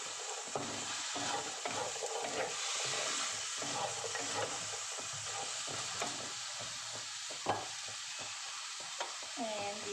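Water poured into a pan of frying adobong sitaw (string beans with tofu in soy sauce), sizzling and hissing with stirring clatter, while a voice speaks faintly underneath.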